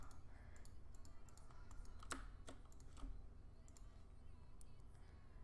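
Quick, irregular keystroke clicks from a computer keyboard being typed on during a Roblox city-building game development session, close and fairly steady, with faint background murmur.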